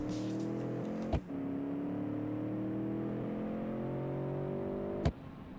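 Car engine in BeamNG.drive revving hard and holding high revs until it breaks, a steady droning whine with rising harmonics broken by two sharp clicks, loud and close with no talk.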